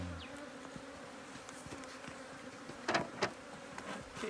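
Honey bees hum steadily around an open hive during a beekeeping class while a smoker drives them off the frame edges. The drone is faint, and a couple of louder close passes come near the end, with no talking.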